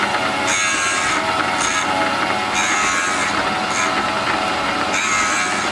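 Valve grinder resurfacing a valve stem from a Kohler Magnum 20 engine, a steady loud abrasive whine held throughout, with brighter hissing grinding bursts recurring about once a second as the stem is passed back and forth.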